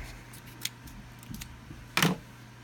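Scissors snip into a Hanna High Range Copper Checker reagent powder packet as a few short, close crisp cuts, the sharpest one near the end, over a quiet room with no talk.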